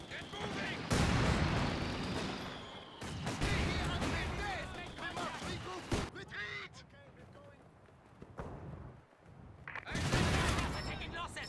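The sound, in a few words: mortar fire in a video game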